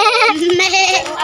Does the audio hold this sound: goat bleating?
yes